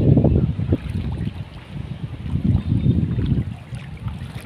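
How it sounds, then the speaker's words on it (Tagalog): Strong wind buffets an outdoor microphone, a steady low rumble with gusting surges and no other clear sound. "Grabe ka kusog ang hangin mga kaleps."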